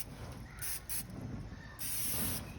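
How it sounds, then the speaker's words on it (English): Cooking spray hisses onto a hot grill over a Solo Stove Bonfire holding cheese steak kabobs, in several sharp bursts: two short sprays, then a longer, louder one, over a low fire rumble. "He is going to give it a quick spray."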